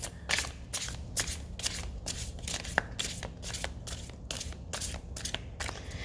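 Tarot cards are shuffled by hand in quick, regular riffles, about two per second, crisp and close, with no voices.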